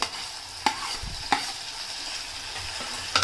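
Chopped chili and tomato sizzle in a hot pan while being stirred, a steady close fry punctuated by three or four sharp utensil knocks against the metal, with no talking.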